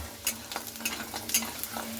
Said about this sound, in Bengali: কলাইয়ের ডালের বড়িটা আমি এখানে ভেজে নেব আলুর সঙ্গে।